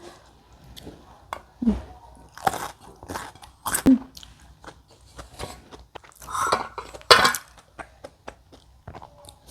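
Someone bites into a crunchy, juicy organic cucumber several times, each sharp crisp crunch followed by close, wet chewing in an otherwise quiet room.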